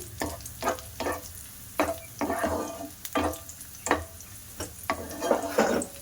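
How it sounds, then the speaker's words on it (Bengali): Dry fruits frying in ghee in a pan, a low steady sizzle broken by rhythmic stirring scrapes of a spoon against the metal, repeating about every half second, close by. "ভাজা করলে খেতে ভালো লাগে ড্রাই ফ্রুটসগুলো, আর সিমাইটাও ভালো লাগে খেতে, তার জন্য ভাজা করে নিচ্ছি।"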